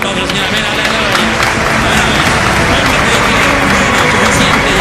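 Church congregation gives a loud, steady round of applause, dense clapping filling the space at close range throughout with no pauses.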